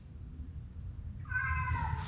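A cat meows in a quiet indoor room, the call rising near the end over faint low background hum, with no talking.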